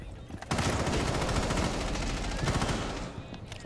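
Rapid automatic gunfire from Rainbow Six Siege, dense bursts of rattling shots with sharp impacts filling the moment, loud and close, with game sounds continuing under it.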